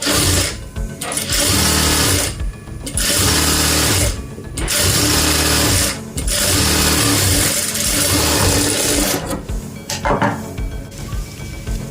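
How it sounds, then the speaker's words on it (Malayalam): Sewing machine stitching the side seam of palazzo pants, a loud, close mechanical whir running in long bursts separated by brief pauses, with no speech. "അതേപോലെ തന്നെ ഇപ്പുറത്തെ സൈഡും സ്റ്റിച്ച് ചെയ്ത് കൊടുക്കാം."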